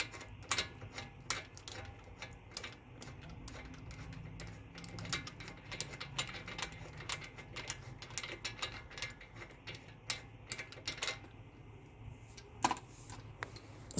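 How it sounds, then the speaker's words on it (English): Ratchet clicking in quick bursts while a wheel nut is unscrewed on a Toyota Sienna during brake rotor and pad work, with sharp metallic ticks over a low background hum. "you can unscrew this. Take out the nut."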